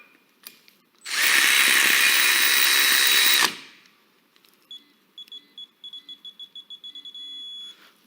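A digital torque wrench tightens a bolt: a loud, steady mechanical whirr runs for about two seconds and stops abruptly, followed by a quick series of short electronic beeps and a longer closing tone.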